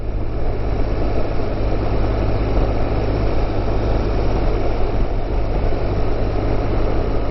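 A car engine hums steadily while driving around town in third or fourth gear, a constant low drone with road rumble and no voices.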